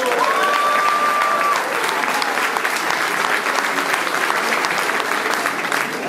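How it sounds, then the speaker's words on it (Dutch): A large crowd claps loudly and steadily for several seconds, dense sustained applause for the organizers and volunteers of the 2019 Struuntocht walking event in Enkhuizen, with a brief whistle near the start. "om even een groot applaus te geven voor de organisatie en de vrijwilligers"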